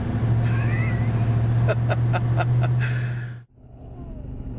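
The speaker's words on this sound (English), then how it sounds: "this is where I let off, and the tires are still spinning" A twin turbo Saleen Mustang with over 1000 rwhp roars loudly and close, its drive tires spinning with a squealing whine over a deep engine drone. Then it cuts out abruptly into a quieter rumble.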